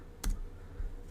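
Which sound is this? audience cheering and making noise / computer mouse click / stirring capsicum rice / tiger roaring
computer mouse click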